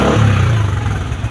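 A Kawasaki Sniper 150 motorcycle fitted with an aftermarket MVR1 exhaust pipe rumbles loudly and up close, a low throaty engine note with a brief rev, no talking.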